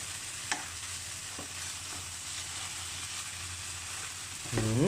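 Glass noodles are stir-fried in a pan with a soft continuous sizzle and a couple of light spatula scrapes, close and fairly quiet, ending in a brief rising clatter.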